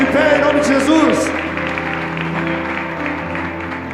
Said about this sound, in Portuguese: Pode aplaudir o Senhor, se coloque de pé em nome de Jesus.